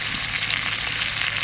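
Spices with salt and turmeric sautéing in hot oil in a pan, giving a steady close sizzle with faint stirring, no voices.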